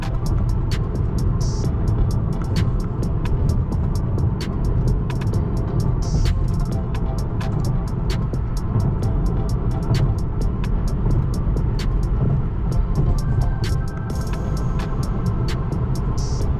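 Tesla Model 3 driving on a road under manual control, a steady low road and tyre rumble with faint interior hum throughout, interrupted by regular soft ticking clicks.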